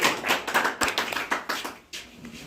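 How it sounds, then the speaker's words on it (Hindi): Audience clapping for a child contestant at a Constitution Day quiz event, a loose group of sharp, separate claps that thin out and slow toward the end. "बहुत बहुत तालियां"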